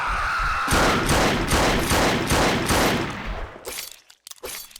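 Sustained rapid gunfire in a horror first-person shooter with monster enemies, a loud, steady stream of repeated shots that tapers into scattered, quieter bursts and clicks at the end.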